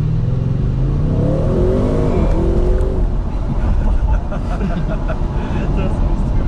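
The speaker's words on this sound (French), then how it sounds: "Vous avez senti un petit peu le lag du turbo, j'ai accéléré et il a fallu une seconde avant que ça allume." An Audi RS6 sports car accelerating with a moment of turbo lag: loud engine note rising in pitch through revs, then a roaring whooshing surge of speed and road noise, with someone talking over it.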